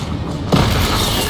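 An Incendio fire spell cast in the Hogwarts Legacy video game bursts in as a sudden loud whooshing boom after a brief lead-in, then holds as a dense, sustained roar.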